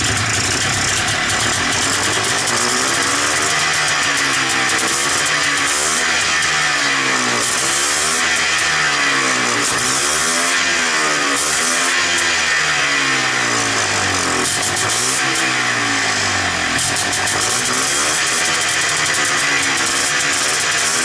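A Polaris Xplorer 250 ATV with a flooding carburetor roars loud and close, its engine revving up and down in repeated swells over a constant throaty drone.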